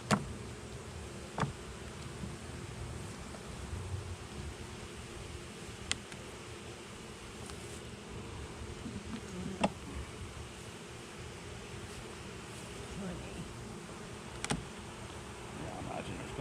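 Honeybees buzz around a hive during a late December inspection, a steady low hum with a few sharp ticks and knocks from handling the frames.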